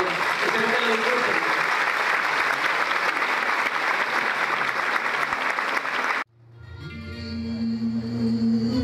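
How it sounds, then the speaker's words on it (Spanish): Loud, sustained applause from a large crowd at a dance gala that cuts off abruptly, followed by a steady low tone as music or sound begins. "Vamos a empezar con ese aplauso"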